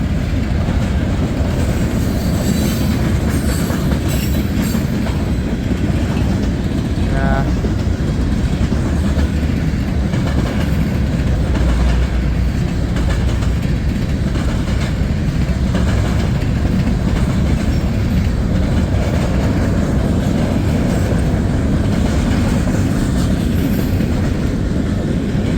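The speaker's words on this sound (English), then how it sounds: "Train is picking up some speed." A CSX mixed freight train rolls past loud and close, picking up speed as its wheels clack and its engine roars without a break.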